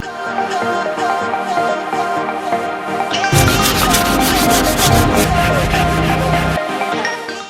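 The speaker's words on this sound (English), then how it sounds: "So I'm just gonna keep finishing up the sanding now" Steady rubbing and scraping of sandpaper by hand on car paint, shifting to a louder, harsher stroke partway through, continuous and close.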